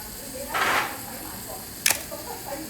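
A Canon FT film camera runs its self-timer, a soft mechanical whir followed a moment later by the sharp single click of the shutter firing, close and quiet with no talk.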